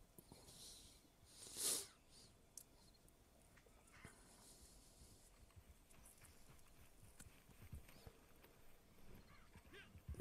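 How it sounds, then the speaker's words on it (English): Horse in the video game Red Dead Redemption 2 Online, with soft hoof clip-clops and a sharp snort near the start, faint and close against a quiet game background. "Now call in your horse."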